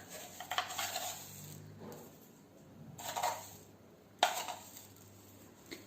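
A spoon mixes flour, baking powder and salt for a fried chicken batter, clinking and scraping against the bowl in three separate bursts with quiet gaps between, close up with a faint background hum.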